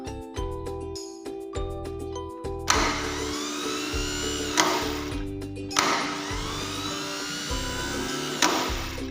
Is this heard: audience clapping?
no